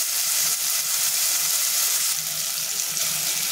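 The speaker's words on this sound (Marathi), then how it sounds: "एक बारीक चिरून घेतलेला टोमॅटो हे आपल्याला छान फ्राय करून घ्यायचे आहे।" Onion and finely chopped tomato sizzle steadily in a pan, a continuous close hiss of frying with faint soft stirring thumps beneath and no talking.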